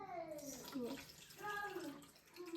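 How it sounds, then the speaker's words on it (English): Milk pours steadily with a gurgling, watery rush, while a child and an adult talk over it. "Pour this milk in."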